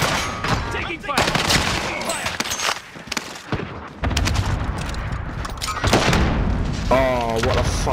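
Gunfire and booming impacts in a Call of Duty match on Rebirth Island, loud bursts scattered through dense game noise, with voices talking over the shooting throughout.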